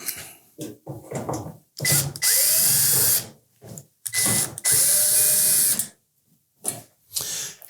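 A power drill whirs in short bursts, backing screws out of the top panel of a Samsung dryer during a drum roller repair; several separate runs sound close and loud, with quiet gaps and small clicks between them.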